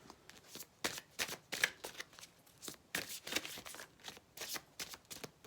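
Tarot cards are shuffled by hand in a rapid series of soft, crisp riffles and flicks, close but quiet, with no talking.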